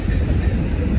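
Steady low rumble of a passing train beside the Colorado River near I-70, continuous and fairly loud, heard without any talking.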